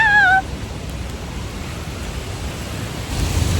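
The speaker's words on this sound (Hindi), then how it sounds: "देखो बारिश हो रही है" Steady rain pours at a train station, a dense hiss of falling water, constant and fairly close, with a brief tonal chirp at the very start.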